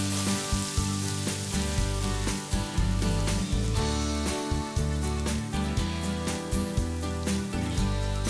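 A rib eye steak panino sizzles and crackles in a heated grill pan with a hot lid pressed down, a steady close frying hiss with small pops throughout.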